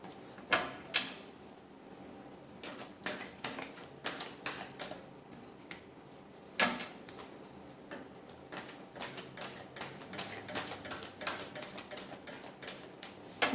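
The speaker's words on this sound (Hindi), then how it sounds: "Last shuffle." Tarot cards shuffled by hand in quick, irregular bursts of papery clicks and riffles, close and moderately quiet, with short pauses between the flurries and no talking.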